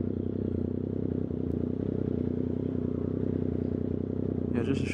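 Triumph 765RS motorcycle fitted with a new aftermarket exhaust, ridden at steady speed: a continuous engine drone heard close from the rider's position, with wind noise, and a brief rise near the end.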